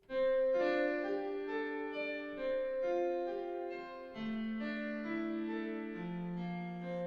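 A grand piano app on iOS plays slow sustained chords drenched in a shimmery reverb effect, each note ringing and blooming into a lush, washing tail with no talking.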